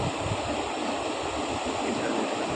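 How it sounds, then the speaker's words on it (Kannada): Falling water rushes steadily at a waterfall, a constant, even roar of moderate loudness with no voices over it. "ಎಷ್ಟು ಚೆನ್ನಾಗಿ ನೀರು ಬೀಳ್ತಾ ಇದೆ."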